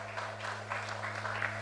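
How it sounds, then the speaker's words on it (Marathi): Applause for an award recipient at a Mumbai Marathi journalists' association award ceremony, a soft, steady patter of clapping from a modest audience heard from some distance, with a low electrical hum underneath. "जोरदार टाळ्या मंगेशसाठी"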